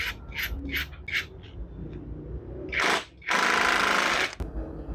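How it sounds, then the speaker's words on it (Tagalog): An impact driver sinks a 50 mm high-low screw into a pilot-holed piece of wood, with a few short rapid hammering bursts followed by a longer loud rattling run, close and without talk. "Nalagyan ko na ng pilot hole yung kahoy at gagamitan ko siya ng impact driver."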